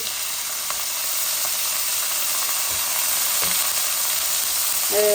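Onions sizzling in hot oil in a pan for a Bangladeshi rohu fish curry, a steady close hiss of frying with faint stirring clinks and no voices.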